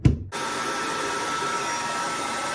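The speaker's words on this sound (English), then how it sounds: "the blow dryer will do the rest" Blow dryer switched on near hair being styled, a brief thump and then a steady broadband whooshing roar that holds evenly, close and moderately loud, no voices.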